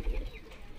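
A Madrasi pigeon gives a brief, low cooing call close by, a soft throaty burst that fades quickly with no voices over it.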